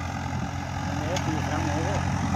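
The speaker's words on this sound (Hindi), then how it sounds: "ये Swaraj 855 F E 55 H P का है और उसमें 8-8 की हीरो चल रही है।" A Swaraj 855 FE 55 hp tractor drags an 8-8, 16-disc harrow in low top gear at about 1500 rpm, its steady low engine drone continuous and close while people talk over it.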